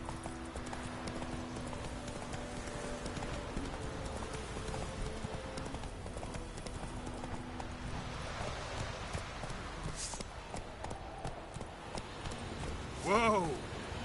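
Roach the horse gallops in The Witcher 3 with a steady, thudding clip-clop of hooves under ambient game sound. A voice cuts in at points, and a short whinny rises near the end.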